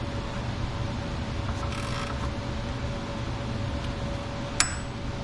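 A pulley installer tool presses a pulley onto an LS engine swapped into an 80 Series Land Cruiser, giving faint creaking and mechanical scraping over a low steady hum, with one sharp metallic click near the end.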